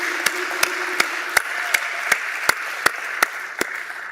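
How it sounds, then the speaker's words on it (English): A crowd applauds a graduating class of 40 at an evening graduation ceremony in the Dayton area, with steady clapping throughout and sharp individual claps popping out at regular intervals. "let's give that a round of applause right off the bat"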